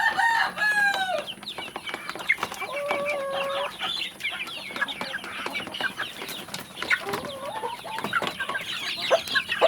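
A flock of free-range village chickens, about two months old, clucking and calling steadily, with overlapping squawks and short cries close by, busy and continuous throughout.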